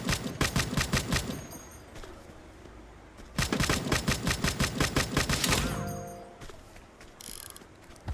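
Rapid bursts of automatic gunfire from guns in the video game Grand Criminal Online, loud and close, with two long volleys separated by a short pause and followed by mechanical reload clicks and fainter shots.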